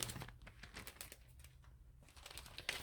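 Faint crinkling and rustling of a plastic bag being cut with scissors for a collage in an altered book, with soft irregular crackles and no talking.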